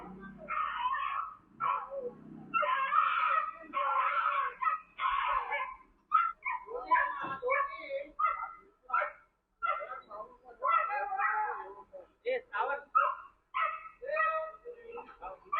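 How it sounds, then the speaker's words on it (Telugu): Dogs bark, yip and whimper in short bursts while sanitation workers catch them in a residential colony, the yelps coming close and irregular with brief pauses between. "కుక్కల్ని పట్టుకుంటున్నారు శానిటైజర్ వాళ్ళు"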